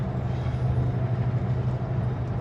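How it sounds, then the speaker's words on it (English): Super B truck rumbling along on fresh snow with its engine brake on the lowest setting, a steady low droning growl heard from the cab. "Engine brake on the lowest setting."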